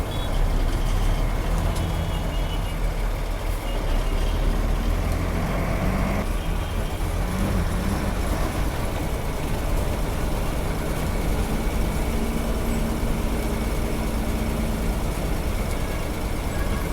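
A bus reverses with a steady loud engine drone, and faint repeated reversing beeps sound underneath a constant heavy rumble.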